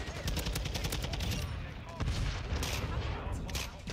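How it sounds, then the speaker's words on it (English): Rapid automatic fire from a TAQ 56 rifle in a Call of Duty video game, dense bursts of shots with a short pause midway, partly under a player's talking. "oh my God, I missed too many bullets."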